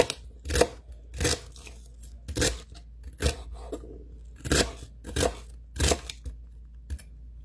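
Knife chopping on a wooden butcher board, heard as a series of sharp, close cuts in uneven bursts with short pauses between groups.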